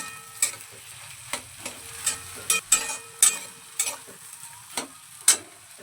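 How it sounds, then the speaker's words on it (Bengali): Potatoes frying in hot oil, stirred with a series of sharp, regular scrapes and clinks over a soft sizzle, close and fairly quiet. "তেলের মধ্যে আলুটা একটু নেড়ে চেড়ে নেবো"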